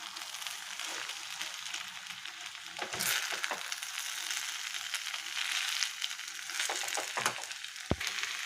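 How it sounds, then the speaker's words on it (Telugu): Boiled cauliflower is stirred into tomato gravy frying in a pan, with a continuous sizzle broken by several scraping, mashing strokes of the spoon. "మొత్తం టమాటాల్లో కలిసేలాగా గుజ్జులో కలిసేంత వరకు మంచిగా కలుపుకోవాలండి"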